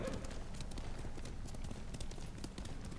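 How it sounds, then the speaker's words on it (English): Horse hooves clip-clop steadily at a walking pace in Ghost of Tsushima, a continuous close rhythm of soft thuds over a low game ambience for the whole stretch. "You're a good horse, Noble."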